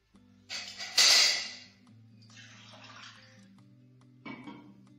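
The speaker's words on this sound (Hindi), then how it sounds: "इसमें हम थोड़ा सा 1 गिलास पानी डालेंगे।" Water poured from a glass into freshly churned homemade butter in a kitchen, a bright splashing burst followed by softer sloshing and a brief final pour, fairly close over a low steady hum.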